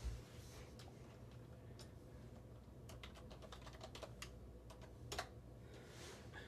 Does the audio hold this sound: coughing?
no